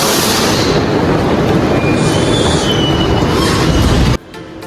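An airport sky train pulls in, a loud, steady rumble of wheels and rail noise with a thin high squeal sliding across it, then cutting off abruptly near the end to a much quieter hum.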